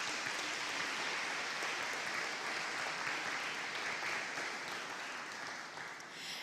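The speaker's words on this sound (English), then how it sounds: "I ask at this time that we applaud all nominees and the recipients." An audience at a national awards ceremony applauds nominees and recipients, a broad, sustained wash of many hands clapping evenly for several seconds before easing slightly at the end.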